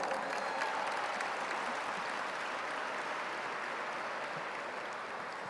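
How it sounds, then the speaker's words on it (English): A large audience at the 2017 Angels in Adoption Gala gives a sustained round of applause, a thick, steady roar of many clapping hands that holds evenly for over five seconds and fades only slightly. "So I think we need to give them a round of applause,"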